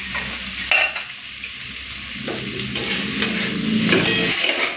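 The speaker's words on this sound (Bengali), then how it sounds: "পেঁয়াজ কলি আর বেগুনটা হালকা ভেজে নিয়েছি" Spring onion stalks and eggplant fry lightly in a pan for a Bengali fish curry, giving a steady close sizzle with occasional stirring scrapes and clinks, no talking.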